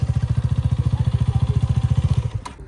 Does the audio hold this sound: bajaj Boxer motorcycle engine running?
yes